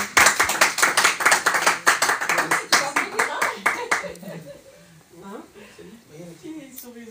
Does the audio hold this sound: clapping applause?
yes